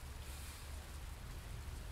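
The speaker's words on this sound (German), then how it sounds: "Es regnet immer noch hier." Rain falls steadily in the Fernbus Simulator driving game, an even hiss of drops with a low rumble underneath, constant and unbroken with no voices.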